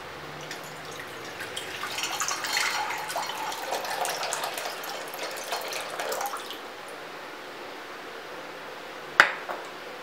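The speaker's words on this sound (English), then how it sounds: "Now we'll add water in our mixing bowl." Water poured into a mixing bowl while making sugar-free lychee lemonade, a steady splashing trickle for about six seconds that fades out, followed by one sharp clink.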